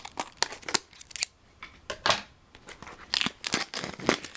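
Japanese trading card booster box being opened, twenty packs inside: a run of crisp crinkling, tearing and snipping bursts from packaging, close and fairly loud, with short pauses between handling sounds and no talking.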